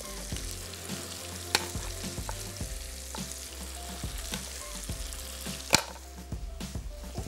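Vegetables fry in a pan with a steady sizzle while a spoon stirs and scrapes, giving occasional sharp clicks and knocks against the pan; no voices are heard.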